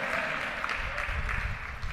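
A church congregation claps steadily in praise, a dense, continuous wash of applause at moderate distance filling the hall, with no voices standing out.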